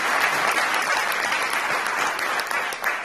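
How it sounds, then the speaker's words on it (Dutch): Audience applause at a gala film premiere in Woerden, a loud, dense, sustained round of clapping from a large crowd filling the hall at an even level. "En dit applaus wat jullie geven,"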